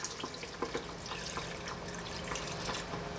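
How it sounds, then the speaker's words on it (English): Water poured from a tap into a pan of pork adobo in a home kitchen, a steady running splash with faint drips and clinks over the continuous flow. "Next up, we're going to add water."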